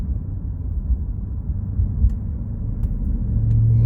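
Maserati Quattroporte GTS, sixth generation, rolling along a frontage road at about 20 mph, its low engine rumble steady and then swelling as the throttle opens near the end, with no talk over it.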